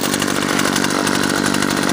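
Weed Eater GHT225 gas hedge trimmer engine running steadily after repair, a loud continuous buzzing two-stroke drone with a fast rhythmic pulse throughout, no talk.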